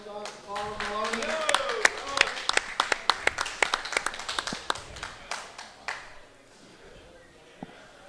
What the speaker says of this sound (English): Let's have a round of applause for the runner-up, Colin Maloney.